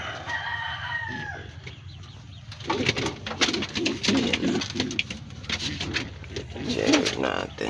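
Pigeons coo and bird calls mix with clucking fowl, a steady murmur of birds close by with fluttering and scuffling noises throughout.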